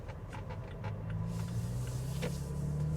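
A 2020 Toyota Tacoma in 4WD rounds a sharp turn on pavement in second gear, its engine a faint, steady low drone that rises slightly as the truck pulls through the bend.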